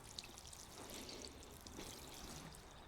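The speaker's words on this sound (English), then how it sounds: "So I'll give that an absolute really good water in." Seasol solution is poured onto a sick Grevillea, a soft, steady stream of liquid splashing into soil and foliage, faint and continuous with no voices.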